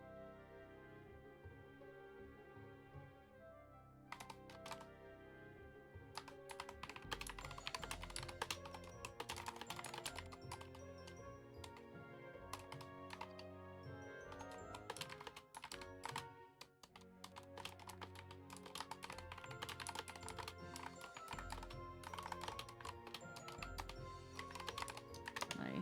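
A computer keyboard clacks in fast, steady runs of keystrokes that carry on for most of the stretch, close and fairly loud, with a short pause before the typing picks up again.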